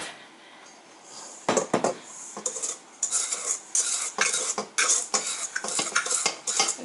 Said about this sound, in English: we're going to get a spoon and we're going to sprinkle it over on the mixture